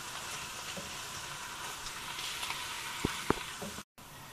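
Pork asado filling with soy sauce sizzles steadily in a pan as it is stirred, with a couple of sharp utensil clicks near the end and a brief cut to silence.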